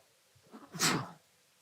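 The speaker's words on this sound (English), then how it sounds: "I've been sneezing a lot." A single sharp sneeze bursts out after a short intake of breath, close and fairly quiet, then silence.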